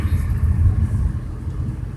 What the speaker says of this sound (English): I'm just going to show you as I'm driving towards Missouri.